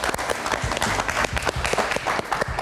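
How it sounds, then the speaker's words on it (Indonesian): A live comedy show audience applauds a comedian with close, dense clapping that holds steady, individual hand claps standing out sharply against the crowd. "Kita kasih tepuk tangan sekali lagi untuk Oza."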